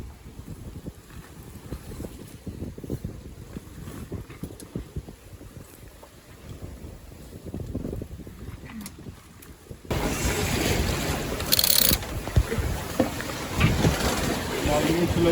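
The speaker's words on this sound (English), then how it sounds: "we took down our sails to motor through the marked entryway" A sailboat motors into the port of Ensenada with its sails down, a low engine drone and water rushing past the hull, with a burst of louder wind noise over the microphone in the second half.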